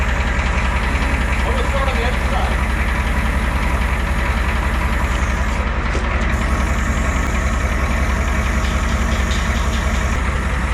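A Ford 7.3 IDI diesel engine runs at a steady, clattering idle, loud and near, with a continuous knocking rhythm and voices in the background.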